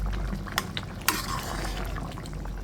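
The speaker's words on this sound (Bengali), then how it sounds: "এখন আমি খুব সুন্দর করে নেড়ে চেড়ে নামিয়ে নিচ্ছি।" Tilapia curry with gathi and vegetables is stirred in a pan, with a steady sizzling bed of sound and a few scraping clicks from the spoon, one of them sharper.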